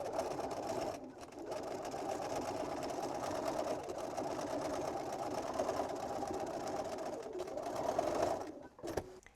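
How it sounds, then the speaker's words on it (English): A sewing machine stitches the end seams of a drawstring pouch bag, a steady close whirring run that pauses briefly near the start and cuts off near the end. "Now we're going to sew the seams along each end of the bag."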